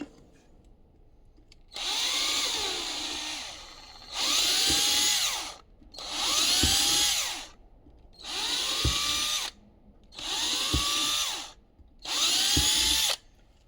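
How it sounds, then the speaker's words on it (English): A power drill runs a bit into existing holes in six short bursts, each spinning up and winding down with brief pauses between, close by and fairly loud. "I'm just going to run this drill bit down into these holes very, very slightly."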